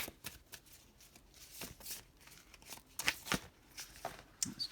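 Tarot cards shuffled by hand in irregular bursts of soft riffling and slapping, quiet and close.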